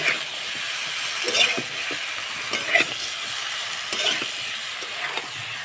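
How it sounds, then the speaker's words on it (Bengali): Potatoes and cauliflower stir-frying with salt and coriander leaves, a steady broadband sizzle with intermittent clinks and scrapes of a spatula stirring in the pan, close and moderately loud. "এবার আমি ভালো করে কষাতে থাকবো"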